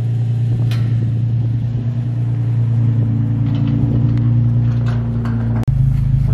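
A salvage-title Nissan 350Z idles with a steady low engine rumble for its first drive, the tone holding even and close throughout before a brief dropout near the end.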